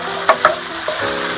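Asparagus and cumin sizzle steadily in a hot pan, a close continuous frying hiss with a couple of brief stirring scrapes.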